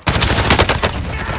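Rapid automatic gunfire in a combat video game rattles in a dense close burst, loud and continuous, with no clear talk over it.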